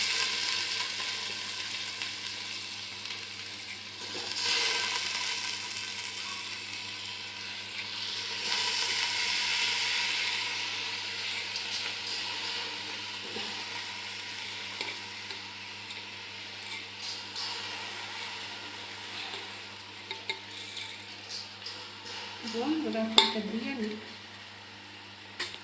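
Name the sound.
rice added to fried dal, sizzling in pan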